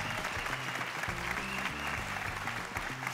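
A theatre audience at a comedy show's grand final at Teatre Bartrina claps loudly and steadily throughout, a continuous close wash of applause from a full crowd.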